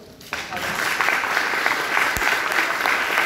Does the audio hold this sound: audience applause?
yes